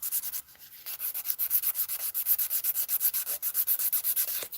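Nail buffer scrubbed rapidly back and forth over short stiletto acrylic nails, producing a close, steady train of quick rhythmic rasping strokes with no talk.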